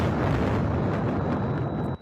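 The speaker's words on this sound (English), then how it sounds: "People who live there say their homes are shaking from constant explosions." Explosions from strikes in Iran captured in news footage, a dense, roaring rumble of blasts that stays heavy and continuous before cutting off abruptly near the end.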